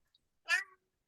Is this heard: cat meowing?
yes